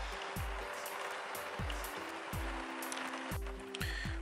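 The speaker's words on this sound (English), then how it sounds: "I was gonna see if the rain was gonna slow down" Hiss of rain falling steadily across the whole stretch, with repeated low thumping pulses and a few brief tonal sounds layered over it.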